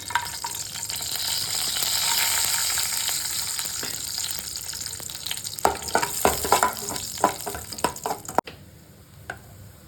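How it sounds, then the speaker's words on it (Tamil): Cashews, raisins and cardamom fry in a little ghee in a pan for kesari, giving a steady close sizzle that later breaks into sharper stirring clinks and scrapes before quieting. "அதே பாத்திரத்துலேயே கொஞ்சமாக நெய் ஊற்றிக்கலாம். முந்திரி, திராட்சை, ஏலக்காயை வறுத்து வச்சுக்கலாங்க."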